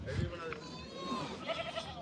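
A goat bleats at a livestock goat market, a short wavering cry heard close amid steady crowd chatter and talk.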